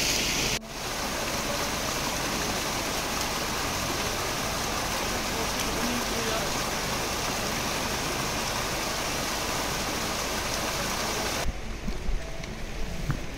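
Rain-fed mountain stream rushing down from the hills along a trekking route, a loud, steady broadband water roar lasting throughout, briefly dipping near the start and thinning at the end.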